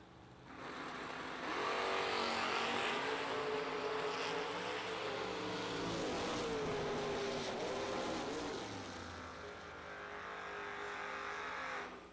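Drag racing cars, a Chevy II among them, launch down the strip with a loud swelling engine roar and rising revs that hold for several seconds before tailing off, heard from some distance.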